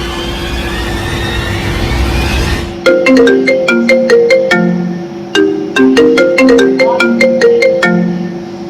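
A mobile phone call plays a melodic ringtone, bright repeating notes in a quick rhythmic pattern that pauses and starts again, loud and close after a short stretch of background noise.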